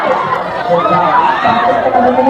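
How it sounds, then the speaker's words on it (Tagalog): A large outdoor crowd at an event in Lanao del Norte shouts and chatters together in a loud, close wash of overlapping voices. "sigawan mga tao"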